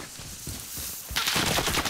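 Gunfire in the video game Call of Duty Warzone, a quick series of close shots that swells into louder, denser firing in the second half.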